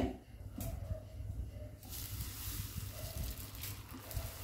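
Thin buttermilk dosa batter hisses steadily on a hot pan, a soft continuous sizzle with a slight rise partway through, heard alone without talk.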